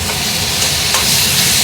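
Ground spices, including cumin and coriander powder, fry hard in oil in a pan as a Bengali fish-head dish is cooked, giving a loud, steady, close sizzle with faint stirring scrapes and no talking.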